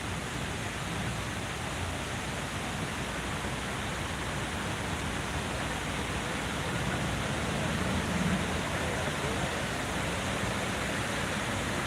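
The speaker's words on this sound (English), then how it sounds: "Oh, they got the waterfall on this side today." Water pours into the 9/11 Memorial pools in New York, a constant dense rushing roar that stays even and unbroken, heard from nearby.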